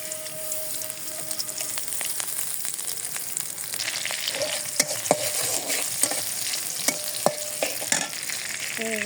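Onion pieces and fried potatoes sizzle steadily in hot oil in a village kitchen, a continuous close hiss broken by sharp spatter pops and scraping stirs toward the end.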